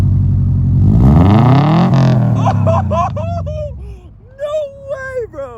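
A 2008 Subaru STI with an Invida N1 Race exhaust revs loudly up and down, close and raw, followed by a few shorter blips, with people exclaiming excitedly over the engine.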